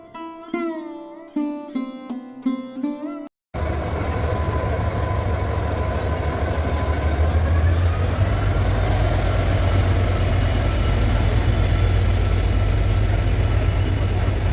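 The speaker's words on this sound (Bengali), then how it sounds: "দেখলাম আমাদের ট্রেনটি প্ল্যাটফর্মে ঢুকছে" Brief melodic electronic chime, then a loud train rumble with a rising high-pitched whine as the Howrah–SMVT Bengaluru Superfast Express rolls into the platform, steady and close.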